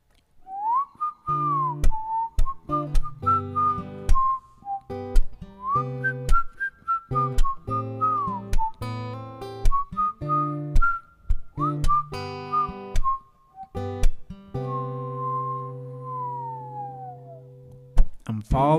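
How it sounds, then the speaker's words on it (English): Melodic whistling opens the song, a clear sliding tune played over steady instrumental backing with sharp rhythmic hits, continuing loud and close for the whole stretch. "And it starts with a whistle."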